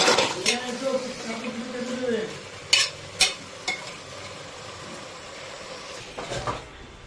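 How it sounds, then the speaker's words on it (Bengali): Mutton frying with onions in a pot over a high gas flame, a steady moderate sizzle with a few sharp spatula scrapes and knocks against the pot, and a voice talking over it at the start. "পেঁয়াজের সাথে ভালো করে ভাজতে হবে। দেখুন মাংস এখানে দেওয়া হয়ে গেছে।"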